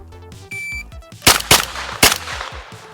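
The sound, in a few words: handgun shots in a Mozambique drill, shot timer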